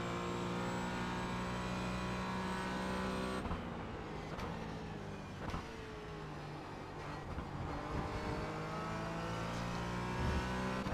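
A race car at Interlagos accelerates hard, its engine note climbing through the gears with a steady loud roar from onboard, pitch dropping briefly at shifts before rising again.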